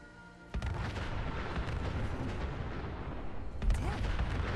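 Gunners in Fallout 4 open fire on mannequin decoys: a sudden onset of dense, overlapping gunfire and booming impacts rolling on continuously, with a heavier blast near the end.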